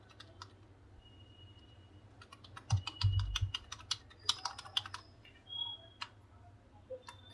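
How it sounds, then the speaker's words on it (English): Fast, close clicking keystrokes on a computer keyboard plugged into a LeEco Le 2 phone through an OTG connector, irregular bursts of taps with a few heavier key presses, quiet and without speech. "I can type everything by using this keyboard."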